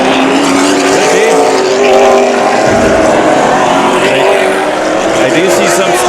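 Late model race cars thunder around Havasu 95 Speedway during a 100-lap race, their loud, steady engine roar droning continuously and close, with a voice faintly beneath it.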